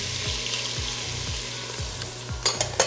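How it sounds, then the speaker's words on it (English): Diced carrots, onion and celery frying in pancetta drippings, a steady close sizzle with rhythmic low scraping strokes about every half second and a few sharper clinks at the end. "we're gonna stir the vegetables for about 5 minutes, and we're just gonna cook them until the onions become translucent"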